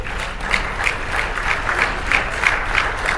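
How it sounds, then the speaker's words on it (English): Loud, dense audience applause at a live business presentation, continuous rapid clapping with a faint rhythmic pulse, close and without speech. "put your hands together, clap it up"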